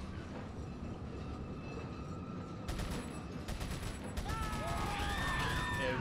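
Rapid bursts of SMG gunfire in the Resident Evil 4 game, loud repeated volleys over dense rumbling game noise, with brighter chattering shots in the second half.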